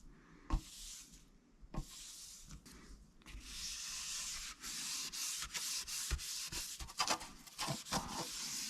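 A car headlight on a Mitsubishi Evo VIII is hand-sanded with a Cerakote headlight restoration kit, producing soft, continuous back-and-forth scratchy rubbing strokes with a few knocks, close and fairly quiet.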